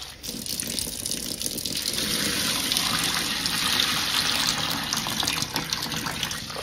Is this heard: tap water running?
yes